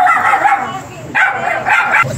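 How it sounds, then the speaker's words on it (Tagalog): Two dogs bark and yip in short bursts under a bridge where a homeless family sleeps, fairly close, with people talking around them. "Oh, dalawang aso."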